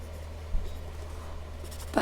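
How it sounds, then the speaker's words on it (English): A never-ending pencil drags across paper in soft, steady strokes. The scratching is faint over a low background hum, and a brief louder scrape comes near the end. "Oh, it draws like a pencil."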